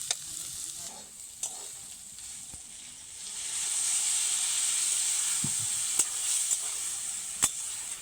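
Water poured into frying ridge gourd (chichinga) curry, producing a steady loud hiss and sizzle that swells midway, with a few sharp taps of a stirring utensil against the pan.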